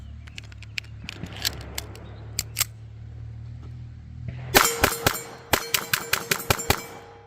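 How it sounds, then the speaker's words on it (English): Walther P22 pistol fired at a steel gong: a rapid string of about eight sharp, loud shots from 4.5 seconds on, each with a ringing metallic clang, after a few scattered fainter clicks and knocks. "So let's empty this mag on the steel gong."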